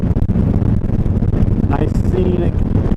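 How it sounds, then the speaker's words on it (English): Strong wind blasting across the Delaware Memorial Bridge, a loud, steady broadband roar with constant buffeting and no pauses, with no one talking. "it sure is windy today"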